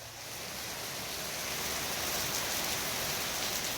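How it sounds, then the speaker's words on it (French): Steady rain pours down in a dense, even hiss that swells slightly and holds constant, fairly close, with no voices over it. "Une chance qu'il pleuve parce qu'il n'a pas beaucoup de pluie dans ce pays du premier"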